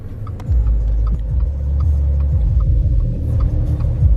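A McLaren 570S sports car drives past, its deep engine rumble rising and holding steady for several seconds close by, with no talking.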